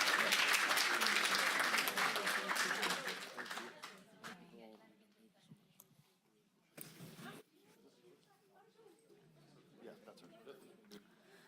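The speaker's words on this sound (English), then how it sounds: "Another round of applause for Susan." Loud crowd applause at a county board of supervisors meeting fills the first few seconds, then fades out, leaving a quieter room with scattered sounds.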